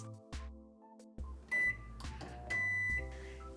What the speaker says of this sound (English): Now I'm going to microwave that for 80 seconds.